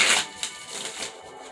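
Tarot cards riffled in a quick shuffle, a dense papery flutter up close that tapers off over a second and a half, with no voices.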